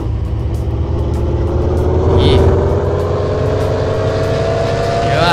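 A Porsche sports car driving in Car For Sale Simulator 2023, its engine droning steadily and close with a rising, sustained rev and a faint passing tone near the end, with no talk over it.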